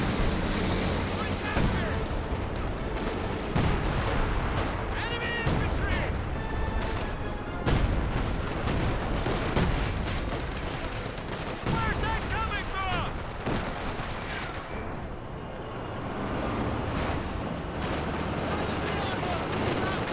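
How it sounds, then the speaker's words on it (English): Heavy artillery barrage in Company of Heroes 2, with rapid repeated blasts and gunfire layered under game music and a commentator talking almost throughout. "We do now have a major artillery barrage being brought on in."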